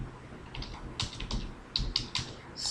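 Code being typed on a computer keyboard, a quick run of light, close key clicks in an uneven rhythm, some strokes sharper than others, with no talking.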